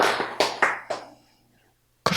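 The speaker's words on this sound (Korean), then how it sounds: "박수" A few sharp, separate claps from a lecture audience ring out with echoing decay, fading into silence before one more loud clap bursts in at the end.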